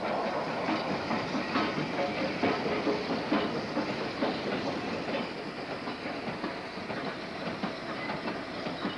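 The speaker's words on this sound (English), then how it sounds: "90392 of Birkenhead Shed, is in ex-works condition coming off the Helsby branch with a mixed freight in early 1962" WD steam locomotive 90392 of Birkenhead Shed hauls a mixed freight train off the Helsby branch on the Wirral in 1962, wagons rumbling with steady clickety-clack and a faint hiss, continuous and at moderate distance.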